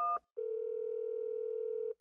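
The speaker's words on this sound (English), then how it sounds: "You take out your phone and you call the handyman." Telephone dial tone from a phone used to call the handyman in a South Park episode: a steady, continuous hum lasting about a second and a half, with brief clicks before it and a burst of sound at the end.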